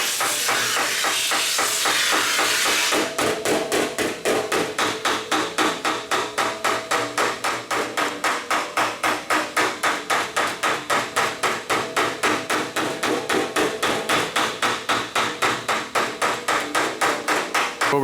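Metal shaping hammer with a low crown die working an aluminum panel for WACO wheel pants, an initial hiss followed by a fast, even machine-gun train of loud, close metallic taps running nonstop.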